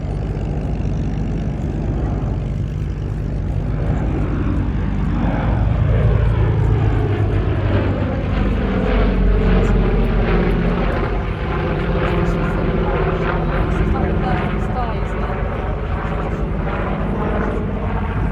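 Red Bull's 1958 Douglas DC-6B propeller airliner with its piston engines running, a loud, steady, throbbing drone close by that swells and shifts in pitch as it passes, with faint voices in the background.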